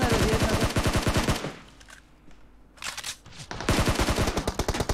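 Rapid automatic gunfire from a PUBG Mobile match rattles in two dense bursts, loud and close, separated by a quieter gap with a few scattered shots.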